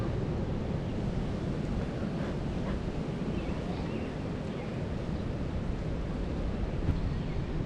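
A steady, broad rush of wind blows outdoors, buffeting the microphone in a constant low roar without pauses.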